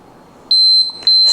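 A workout interval timer gives two sharp, loud electronic beeps, the first held longer, the second starting at the very end, with no talking over them.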